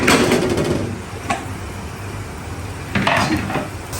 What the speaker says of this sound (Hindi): ये देखिए माशाल्लाह कैसे फ्राई हो रही है